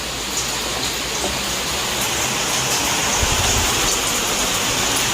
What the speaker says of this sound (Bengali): আবার জোর এসে গেল বৃষ্টি